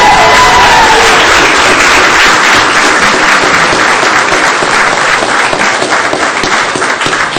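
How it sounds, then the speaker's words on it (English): A city council meeting crowd gives a loud, sustained round of applause for the state champion T-ball team of six-and-under players from Oviedo, with dense clapping and a little cheering throughout. "So give them a big round of applause"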